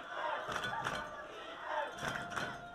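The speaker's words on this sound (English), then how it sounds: "Trinity crowd making some noise." College football crowd at a Trinity University versus Millsaps game, a faint, distant stadium roar with swelling cheers and shouts rising and falling in waves.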